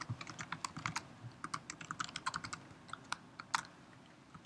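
Fast, irregular clicking of computer keyboard keys during code writing, heard close and fairly quiet, with bursts of keystrokes and short pauses and no talking.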